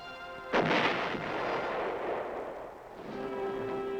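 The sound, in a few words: 8-inch howitzer artillery fire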